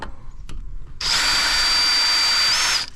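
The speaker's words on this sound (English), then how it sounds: "So now to get the two set screws loose, drill, impact." Impact drill spins out the two set screws holding a Honda Civic sedan's front brake rotor, a loud steady high whine lasting under two seconds after a brief click, with no talk.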